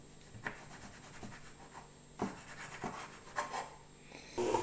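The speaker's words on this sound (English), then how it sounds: "And then you want to start cutting them." A few scattered, quiet scraping cuts through soft dog treat dough made with cranberries, coming as separate strokes with brief pauses between them and one louder rub at the end.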